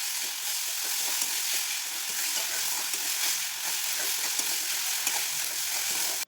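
Spice masala cooked with tomato paste sizzles and crackles steadily in hot oil, a dense, continuous frying hiss close up with no talking.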